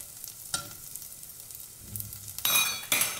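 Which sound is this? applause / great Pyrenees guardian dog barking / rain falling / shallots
shallots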